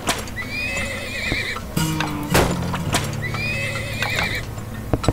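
Horses in the video game Turmoil whinny twice in loud, drawn-out neighs, with hoof clip-clops and other game sounds in between; no one speaks.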